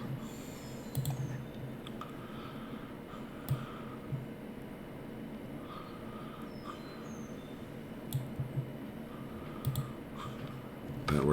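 Computer mouse clicks while working in Photoshop, a few sharp isolated clicks spread out over a steady low room hum, with no talking.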